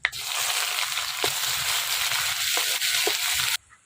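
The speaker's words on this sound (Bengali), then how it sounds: "পেঁয়াজ ভাজা হয়ে গেছে," Onions frying in oil with panch phoron and dried red chilies make a loud, continuous close sizzle with scattered sharp crackles, ending abruptly.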